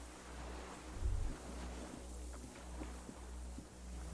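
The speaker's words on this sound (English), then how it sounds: "The distant sounds of cargo ships." Distant cargo ships and sea waves in the Disco Elysium game world: a steady low rumble of surf and water with a faint, far-off low horn-like swell, no voices.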